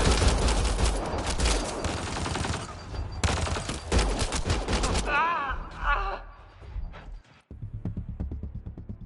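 Rapid gunfire rattles in Mass Effect Andromeda amid battle noise, with shouted voices and a creature-like cry breaking through, and dense volleys continuing at a lower level toward the end.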